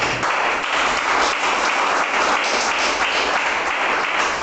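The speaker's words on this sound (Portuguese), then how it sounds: "dê aquela linda salva de palmas para Jesus" Congregation in a church applauding for Jesus, a dense, steady wash of clapping from many hands lasting throughout, loud and continuous with no talk over it.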